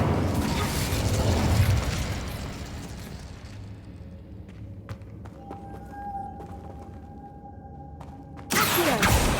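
A fiery Incendio spell cast in the Hogwarts Legacy video game, a loud burst of flame and crackle that fades into quiet ambience with a thin tonal hum, then another loud burst at the end.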